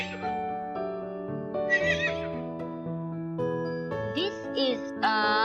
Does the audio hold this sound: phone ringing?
no